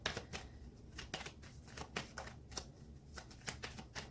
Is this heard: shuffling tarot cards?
yes